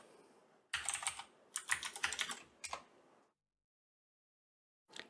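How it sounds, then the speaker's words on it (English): Quick bursts of keystrokes on a computer keyboard as a password is entered, rapid clicky taps in two or three clusters, then a pause and a final single key press, close and fairly quiet. "If we now press enter, type in our password,"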